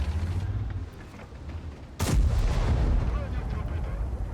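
A single heavy artillery shell impact in World of Tanks, hitting an AMX M4 54 tank: a sudden loud boom midway, followed by a rumbling tail over steady background noise.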